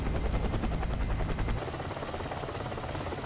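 Robinson R66 turbine helicopter in X-Plane 11, a steady loud rotor and turbine drone with a continuous rhythmic chop and a high whine, alone without talk.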